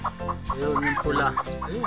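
Tiny one-day-old Serama bantam chicks, two white and one red, peep in quick repeated high chirps close by, mixed with soft clucking, while a person talks briefly over them.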